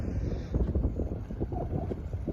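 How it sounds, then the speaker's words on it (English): Strong wind buffets the microphone at a drag strip, a heavy, continuous low rumble with gusty fluctuations and nothing else distinct. "We got a lot of wind. I don't know if you can hear or not,"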